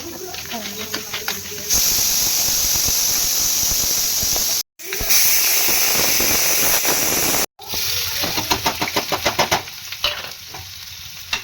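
A pressure cooker cooking dal whistles and hisses steam in a home kitchen, loud and close, with two brief breaks and a voice talking over part of it.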